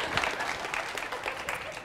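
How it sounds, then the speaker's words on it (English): A high school audience at a mascot reveal claps briefly, a short burst of dense, moderately loud applause from a crowd in a large room. "y'all can clap"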